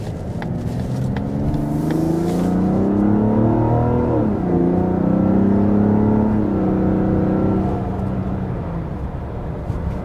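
A 2025 Mazda CX-70 Turbo S Premium accelerates at about three-quarter throttle, its engine note climbing smoothly through rising, droning harmonics, loud and close with no voices.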